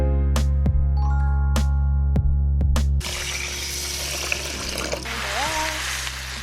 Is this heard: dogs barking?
no